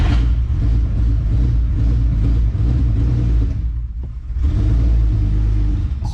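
A C4 engine with an apparent fuel delivery problem is cranked in neutral, a loud, steady churning rumble that drops briefly in the middle before resuming, with no voices.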